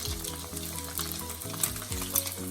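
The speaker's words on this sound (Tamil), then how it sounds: "வெங்காயம் போட்டு ஒரு கிளறணும்" Chopped onions with small onions and green chillies sizzle and crackle steadily in a hot pan while stirred, with a low hum running underneath and no talking.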